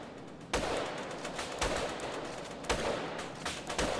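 Gunfire in a Grand Theft Auto game comes as a steady run of heavy, evenly spaced shots, each booming loudly and trailing into a noisy wash.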